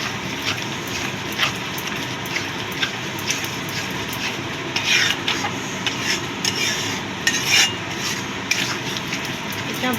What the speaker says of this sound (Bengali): এবার ভালো করে মিশিয়ে দেবো।